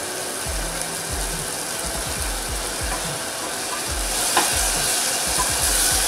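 Thick masala of onion and spices, with crushed dried fenugreek leaves, frying in oil that has started to separate. Steady broadband sizzle with rhythmic low scraping strokes of stirring throughout, close and fairly loud, no voices.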